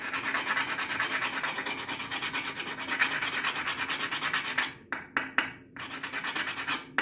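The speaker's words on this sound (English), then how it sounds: "So I have my old-fashioned nutmeg grater." Whole nutmeg is rasped steadily across an old-fashioned metal grater, making a close, continuous scratch that gives way near the end to a few separate short strokes.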